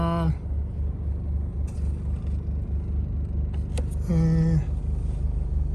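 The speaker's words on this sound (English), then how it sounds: "So let's turn the car on." A 1989 Honda Civic hatchback switched on gives two short rising electric whines, one at the start and one near the end, over a steady low mechanical rumble.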